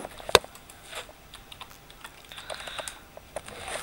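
Someone types on a computer keyboard while setting up a Minecraft server, one sharp key click followed by a scattered run of lighter keystrokes, close and with no voices.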